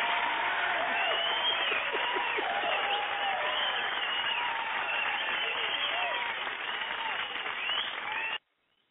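Applause plays during a live online question-and-answer broadcast to honor the co-host, a dense, continuous clapping sound that sounds band-limited like a sound effect and cuts off abruptly near the end.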